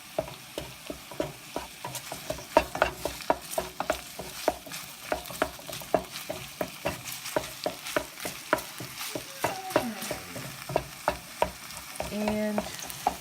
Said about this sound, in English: going to get that stirred up real good